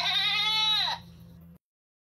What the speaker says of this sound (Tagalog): Parinig nga ng boses ng kambing ko.